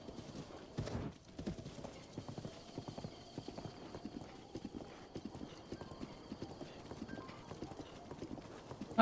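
Horse hooves clip-clop steadily in The Legend of Zelda: Breath of the Wild, a brisk even rhythm running throughout with a brief burst of noise near the start.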